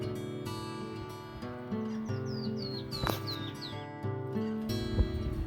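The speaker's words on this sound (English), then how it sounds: "See, here's that bird." Bird chirps by the Malad River near Hagerman, Idaho, a run of short rising tweets repeating at a moderate distance over steady outdoor background noise.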